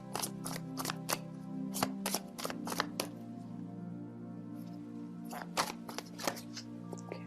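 Tarot cards riffle and flick in quick bursts of shuffling, close and fairly quiet, with a pause before one card is drawn and a low steady hum underneath.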